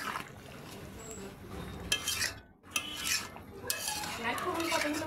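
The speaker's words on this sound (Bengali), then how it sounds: "বাটিটা ধুয়ে একটুখানি জল দিচ্ছি।" A bowl being washed and then topped up with a little water in a home kitchen, heard as close clinks and scrapes of dishes and utensils with splashing, a brief pause midway, then more rattling.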